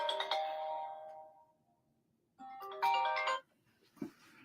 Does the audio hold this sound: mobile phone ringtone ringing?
yes